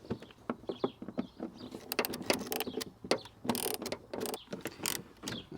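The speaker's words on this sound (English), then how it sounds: "This ratchet is dying with the battery." A weakening battery-powered ratchet works loose 10 mm bolts on a fan shroud of a 1997 Chevy Suburban, giving repeated close metallic clicking and whirring bursts with short gaps between them.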